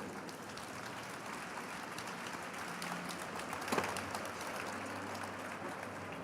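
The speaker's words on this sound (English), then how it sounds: "Please give them a big round of applause." Audience applause at a sustainability conference session, a steady, fairly faint crackle of many hands with a brief spike near the middle and a voice speaking a short phrase over it.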